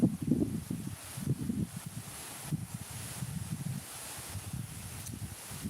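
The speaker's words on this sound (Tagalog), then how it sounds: "Ang lakas ng hangin." Strong wind gusting across open farm fields, buffeting the microphone in uneven low rumbling bursts with faint rustling, loud at the start and easing to intermittent gusts.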